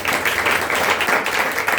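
An audience at an alumni talk session on career guidance claps loudly and continuously, a thick, even wash of applause with no speech over it.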